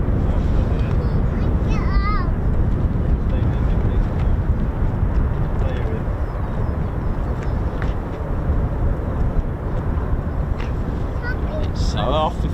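A Lockheed C-130J taxies out for departure at RAF Lakenheath, a loud, steady engine roar filling the whole stretch with broadband rumble, while voices talk over it.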